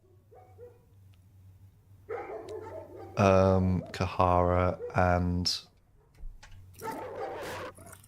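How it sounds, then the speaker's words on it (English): Dogs in the horror game Fear and Hunger: Termina bark and whine loudly in a burst of harsh, drawn-out calls over a low hum, with a person talking briefly alongside. "the dogs are still so loud"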